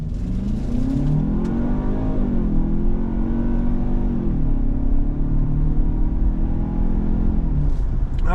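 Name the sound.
2023 Lincoln Nautilus 2-liter turbo accelerating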